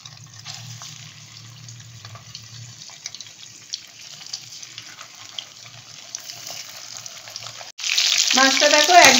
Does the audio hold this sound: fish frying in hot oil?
yes